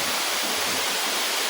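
Busay Falls in Camarines Sur, a waterfall pouring from above, roars as a steady, dense wash of falling water filling the whole clip with no talk.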